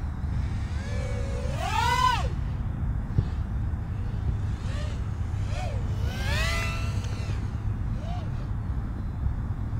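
DamFastFPV Toothpick FPV drone with 1104 high-kV motors and 3-inch propellers in flight, a high whining buzz that rises and falls in sharp pitch sweeps as the throttle changes, over steady outdoor background noise.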